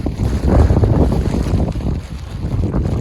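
Strong wind roars and buffets the microphone continuously, a loud low rumble with gusty surges and no voices.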